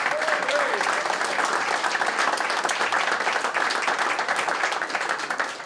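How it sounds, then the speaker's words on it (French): A crowd applauds a hockey team of former Canadiens players at a community event, with dense, continuous clapping that holds at a steady level throughout before easing slightly at the very end. "Une bonne main d'applaudissements"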